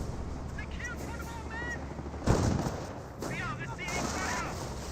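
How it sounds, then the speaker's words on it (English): Gunfire hitting grenadiers in Company of Heroes, with scattered shots and a heavier impact burst mid-clip amid battlefield noise, under faint background voices. "Grenadiers receiving a bit of fire there."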